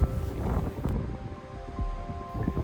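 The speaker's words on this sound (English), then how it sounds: "As you can hear, it was a very windy day" Strong wind blowing across a mountain trail near Little Jimmy Campground on the Pacific Crest Trail, a loud, continuous buffeting rush over the microphone with no talk.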